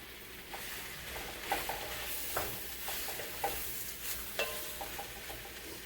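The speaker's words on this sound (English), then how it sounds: "And now it's time to add the mushrooms." Sliced portobello mushrooms sizzle in a hot pot while a spoon stirs them, giving a steady frying hiss broken by short scraping strokes and taps at close range.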